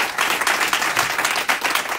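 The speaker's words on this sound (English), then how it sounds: "Let's give him a very big clap." Audience at a welcome gathering in Frankfurt clapping loudly and close, a brisk rapid patter of many hands filling the whole moment without speech.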